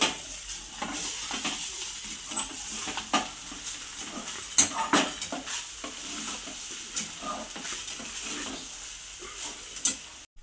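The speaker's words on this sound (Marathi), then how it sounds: "याला चांगल्या हलक्या हाताने परतून घेऊया" Veg fried rice is stirred and tossed in a hot pan: a steady sizzle with repeated spatula scrapes and clinks against the metal, plus a few sharper knocks, all close and without voices.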